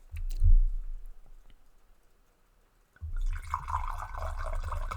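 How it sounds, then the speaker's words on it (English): Wine poured into a glass: a soft clink at the start, a quiet pause, then a steady liquid pour that runs through the second half. "Pouring more wine."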